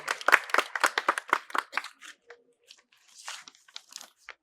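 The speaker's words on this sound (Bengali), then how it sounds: "হাততালি" Audience applause at a quiz competition at a medical college and hospital, a close burst of clapping that fades into scattered claps and brief crinkly handling sounds.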